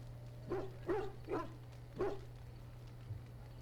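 A dog in the Dragon Age: Origins video game barks four times, quick and gruff, at moderate distance over a steady low hum.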